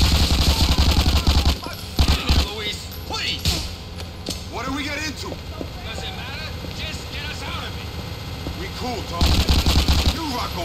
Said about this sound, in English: This gun is unbelievable.